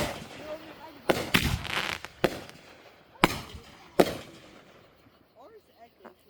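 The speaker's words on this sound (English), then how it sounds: "Those are fireworks lighting up the sky." Several sharp firework bangs burst at irregular intervals during a family fireworks night, each echoing across the area, with crackling between and voices chatting in the background.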